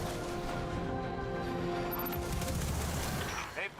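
Automatic turret guns in Destiny fire in a continuous fusillade of rapid shots, loud and steady throughout, with game ambience and faint speech-like sound in the background.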